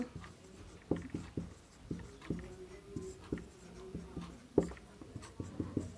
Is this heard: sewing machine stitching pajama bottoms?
no